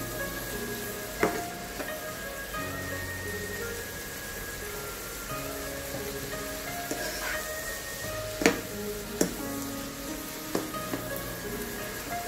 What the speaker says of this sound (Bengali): ফুলকপি অ্যাড করে দেওয়ার পর আবারও সামান্য ভেজে নিতে হবে।